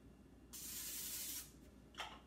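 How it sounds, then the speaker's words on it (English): Cooking spray hisses into a pan in one long burst of about a second, then a shorter second spritz follows, close and loud with no talking. "I think I might need to add some more spray."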